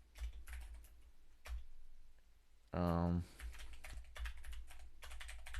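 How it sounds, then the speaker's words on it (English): Rapid clicking of a computer keyboard being typed on, close and fairly loud, broken by a short burst of loud voice noise midway, with someone speaking briefly. "typing the ban reason."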